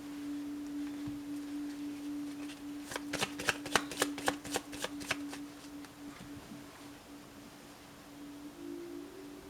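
Oracle cards shuffled by hand in a quick run of crisp riffling flicks lasting about two seconds, close and moderately loud over a steady low electronic hum.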